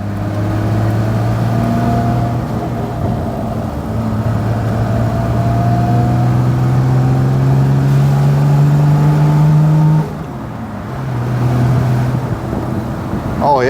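A Triumph Vitesse 2-Litre classic British sports car's six-cylinder engine revs up through gears, a loud, smooth rising drone that eases off briefly before climbing again.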